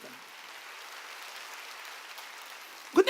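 Congregation clapping during a Korean church sermon, a soft, even patter of hands from a distant crowd held steady for a few seconds, ending with a couple of sharper, closer bursts.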